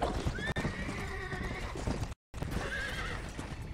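A horse in the video game Red Dead Redemption: Undead Nightmare whinnies and clip-clops at a steady gallop, loud and close, with a brief cut of silence partway.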